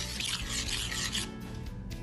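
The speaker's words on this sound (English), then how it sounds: "Gets a little harder to stir with the whisk once you got all that good stuff in there." A whisk drags through thick upside-down cake batter, making a close, rough scraping rub that eases off partway through the short stretch.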